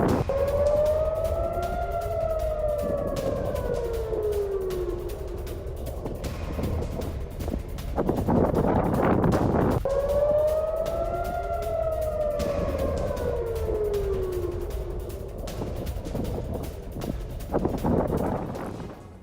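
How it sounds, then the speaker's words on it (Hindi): Civil defense air raid sirens wail across Jerusalem, Israel, in slow rising and falling cycles that repeat roughly every ten seconds, loud and continuous under wind noise. "ये देखिए, यरूशलेम में भी लोगों को अलर्ट करने के लिए सायरन बज रहे हैं।"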